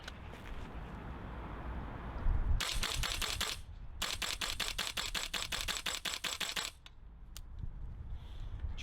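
A Viper Tech HK416 gas blowback airsoft rifle fires rapid mechanical clacks in two close bursts, each made of a quick regular string of sharp snaps, over quiet outdoor background.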